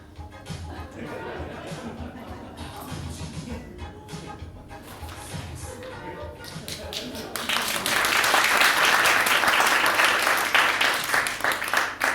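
Loud applause from a crowd swells in after a stretch of murmuring and background noise, continuing strongly to the end.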